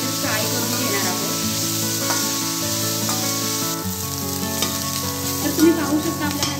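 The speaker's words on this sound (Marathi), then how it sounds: "त्याप्रकारे आपण ह्या भाज्या भिजवून घेणार आहोत, म्हणजे फ्राय करून घेणार आहोत" Cauliflower, peas, beans and carrots frying in oil for veg pulao, a loud continuous sizzle with occasional stirring scrapes, close up and without talk.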